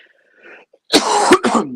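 A faint murmur, then two sharp, loud coughs close to the microphone, one right after the other.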